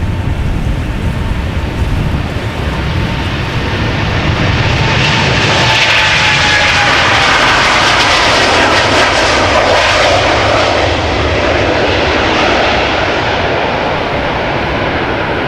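KLM Boeing 787-10 Dreamliner on departure at Amsterdam Schiphol, a loud sustained jet engine roar building up close and holding steady throughout, with no voices.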